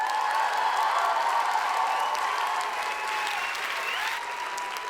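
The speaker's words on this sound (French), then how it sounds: "Je vous demande un tonnerre d'applaudissements pour Salomé Joly et Philippe" A Geneva civic ceremony crowd gives a full round of applause to two guests, a steady wash of clapping with faint cheering, fairly distant and gradually softening toward the end.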